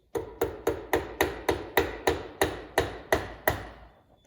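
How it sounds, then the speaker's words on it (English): A hammer strikes a punch against a hydraulic valve part in about twelve sharp metallic blows, spaced evenly roughly a third of a second apart, loud and close with short ringing decays. "I'm going to punch on the pointed part of this, you know. Just use the tool backwards."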